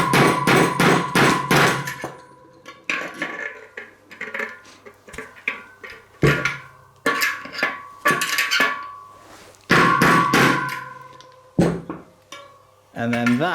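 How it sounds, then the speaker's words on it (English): Sharp metallic hammer blows tap a bearing out of a Farsports Ventoux racing bike wheel hub, coming in quick clustered bursts of ringing clanks with short pauses between them. "So now we need some very, very carefully calibrated hammer blows."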